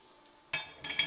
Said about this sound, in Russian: И, как всегда, все перемешиваем.